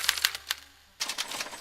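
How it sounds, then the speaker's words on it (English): Special typewriter in Back to the Future: The Game printing a punch card, heard as loud rapid mechanical clacks, a brief pause, then another burst of strikes. "they're relayed to this special typewriter, which prints out a punch card that represents the subject's mind map"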